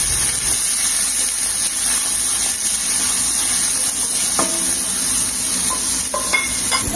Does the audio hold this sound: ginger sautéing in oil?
yes